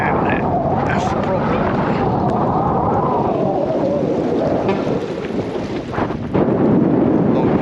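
High wind buffets the microphone on a fishing pier at Southampton's Town Quay by the sea, making a loud, constant roaring rumble that swells and dips over several seconds.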